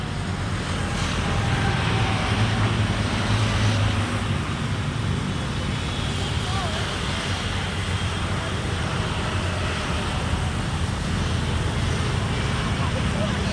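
Waterfall rushing steadily in a light breeze, a broad continuous wash of water noise filling the whole clip at even loudness, with no one talking.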